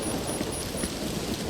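Steady rain falling at night in the Death Stranding 2 video game, a dense, even hiss of drops with faint scattered patters, with no talk over it.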